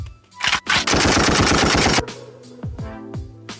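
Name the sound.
gunshot sound effect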